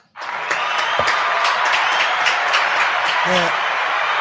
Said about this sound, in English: Let's give a round of applause for the menu, man.